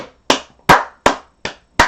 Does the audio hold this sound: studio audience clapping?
yes